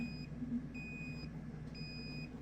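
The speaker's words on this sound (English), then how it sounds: "make sure that your LED is flashing at the same time as your buzzer" A micro:bit buzzer wired on a breadboard beeps three times, each a clear, high electronic tone about half a second long, evenly spaced over a low steady hum.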